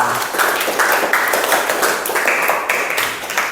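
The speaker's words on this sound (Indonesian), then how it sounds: "Tepuk tangan untuk kelompok 2" A classroom group claps for the second team, with brisk, uneven hand claps at moderate volume.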